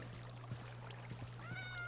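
Several cats meow indoors in short, soft calls close to the mic, over a steady low hum, with a clearer drawn-out meow near the end.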